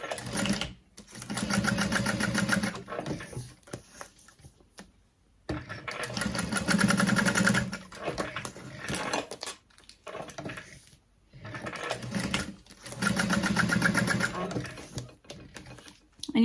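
Sewing machine stitching an Aster bag at a long stitch length with back stitching, three sustained whirring runs separated by brief pauses, close and steady.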